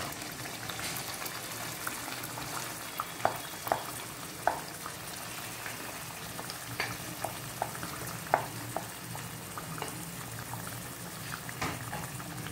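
Marinated chicken frying in masala in a pan for Hyderabad masala chicken, a steady bubbling sizzle with scattered light clicks and scrapes as it is stirred.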